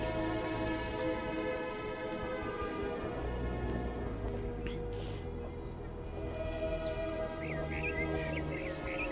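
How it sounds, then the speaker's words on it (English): Rain in the city-building game Kingdoms Reborn patters steadily as a dense, even wash of drops, joined by light ticking and a tonal game music bed, with a brief high chirp near the end. "There's a lot of rain."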